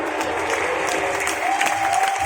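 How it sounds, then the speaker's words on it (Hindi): Audience at a debate breaks into steady applause, a dense continuous patter of many hands clapping at moderate distance, with faint crowd murmur beneath. "ये श्रीधर महाराज जी जबरदस्ती ताली बजाकर जय करना चाह रहे हैं।"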